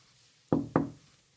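Two crisp knocks land close together, like knuckles rapping on wood, sharp and close with a short decay, in a quiet setting.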